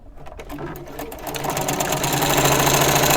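A sewing machine runs stitching fabric scraps together, starting with a few separate needle thumps and then speeding into a loud, steady rapid mechanical hum, alone without speech.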